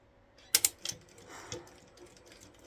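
A sewing machine stitching a seam on a small fabric cosmetic bag gives a short burst of mechanical clicking and whirring, fairly faint, with a few sharper knocks at the start.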